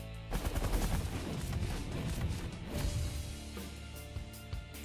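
A Giga Cannon fires in the space strategy video game The Last Federation, giving a faint burst of rapid, rattling gunfire-like blasts that trails off into scattered pops.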